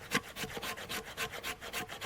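A knife blade scrapes wood into fine shavings finer than sawdust in a bushcraft setting, making close, even rasping strokes, about four per second, with no voices.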